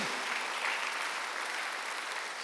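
Applause from a congregation during a Sunday church worship service, a steady, dense clapping that fills the room without pause.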